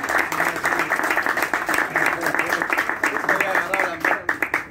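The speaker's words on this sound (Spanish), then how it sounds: "Un aplauso para Marina." An audience at a payada gives a steady burst of applause, dense clapping sustained throughout and fairly close, with a few voices mixed in toward the end.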